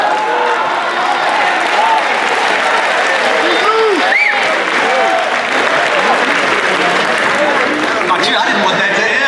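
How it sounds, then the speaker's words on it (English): Sustained, loud applause from a crowd at the grand opening program of the Rocky Mount Event Center, steady throughout with cheering voices and a few whoops rising above the clapping. "Round of applause."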